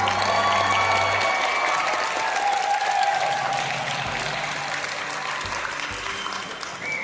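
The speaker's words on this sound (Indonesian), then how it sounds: "boleh sekali lagi tepuk tangan yang meriah untuk Pak Mahmud" A student audience at an ITB campus visit by SMA Korpri Bekasi breaks into sustained, dense applause for a speaker, a continuous wash of many hands that slowly tapers toward the end.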